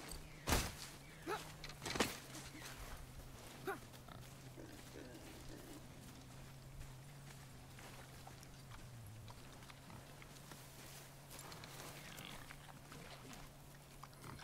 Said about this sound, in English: I knew it was a boar.